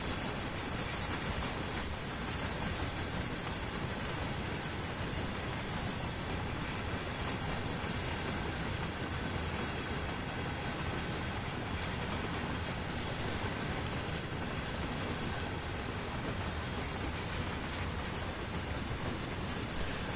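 A loaded simulated freight train of about 5,100 tons, with four locomotives and a caboose, on the Clinchfield Railroad, rumbling along in a steady continuous roar with faint rail clatter.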